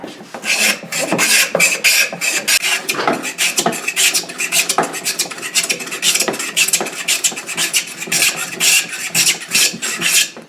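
A Stanley 12-404 hand plane is pushed back and forth over a walnut board, producing a quick series of close, rasping shaving strokes in an irregular rhythm throughout.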